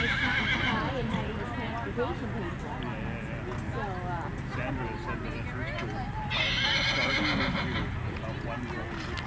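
A horse whinnies loudly and repeatedly at a fair horse show, with hooves clip-clopping throughout against a busy outdoor background and faint crowd chatter.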